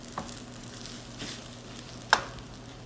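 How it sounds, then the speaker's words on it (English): Vegetable fried rice with egg and green onions stirred in a hot pan, with a soft continuous sizzle and a few scrape and clink accents, one sharp knock near the end. "Mixing it up again, getting everything really mixed together."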